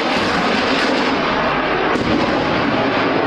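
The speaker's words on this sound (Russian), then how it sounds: "В небе штурмовик Су-25, вот он выпускает ракеты" A Su-25 attack aircraft firing rockets in combat footage: a loud, dense, continuous roar of jet engine and rocket fire with a sharp burst near two seconds, and no speech.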